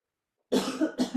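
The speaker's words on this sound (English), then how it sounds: "It makes me cough sometimes when I do it." Two short, close coughs in quick succession after a moment of silence.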